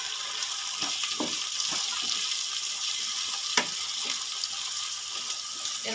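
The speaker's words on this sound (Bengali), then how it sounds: "আলুটা একটু নেড়ে চেড়ে নেব, নিয়ে এর মধ্যে দিয়ে দেবো মটরশুঁটি" Small diced potatoes frying in a pan sizzle loudly and steadily, while a spatula stirs them with repeated scraping knocks and one firmer clack partway through.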